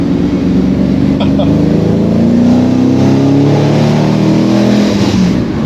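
A V8-swapped Holden HT engine roars steadily and loudly, revving with a deep rumbling growl that holds for several seconds.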